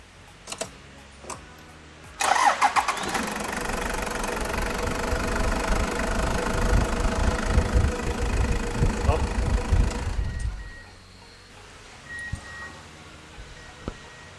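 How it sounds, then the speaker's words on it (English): A 1997 Toyota HiAce Super Custom engine cranks briefly and catches after an oil service, settling into a steady, close rumbling idle for about eight seconds before shutting off, with light clicks and handling sounds before and after. "we can still start the vehicle until the oil light goes out, and then shut it down again to recheck our oil level."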